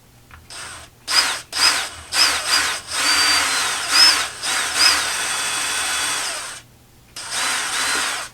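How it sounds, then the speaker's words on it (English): A power drill whirs in repeated bursts, then runs in a longer strained stretch, stopping and starting again as it bites through metal stakes in a Camaro underhood light socket. "carefully drill through those stakes."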